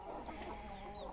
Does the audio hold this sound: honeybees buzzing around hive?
no